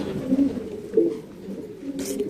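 Pigeons coo softly at a pigeon farm, with low throaty calls repeating under nearby ambient noise and a brief rustle near the end.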